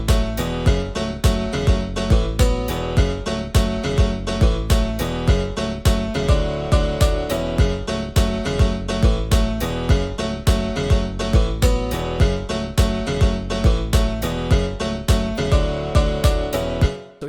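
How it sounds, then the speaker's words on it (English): A produced piano drop plays back with piano, bass and kick drum processed through EQ, compression and Realm reverb, featuring a steady, punchy pulse of strong beats under sustained chords until an abrupt stop. "this is how I would make a piano drop"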